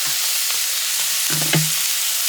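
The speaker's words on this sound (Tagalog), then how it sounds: "Actually, piprito ko muna to." Vegetables fry in cooking oil for a coconut-milk dish, a steady close hiss with a couple of brief clinks and scrapes near the middle, no voices.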